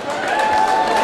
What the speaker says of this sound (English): Round of applause for Rob Clark and Yann Floch